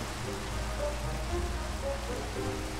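Steady rain in Minecraft, a continuous even hiss of falling drops heard at night while fishing, with faint low in-game tones underneath and no talking.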